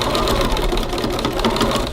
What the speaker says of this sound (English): sewing machine and we're going to stitch top and the bottom edges